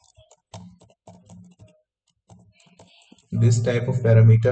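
Brief bursts of computer-keyboard typing during a live Python coding session, a few quick clusters of clicks near the mic, followed by a person talking.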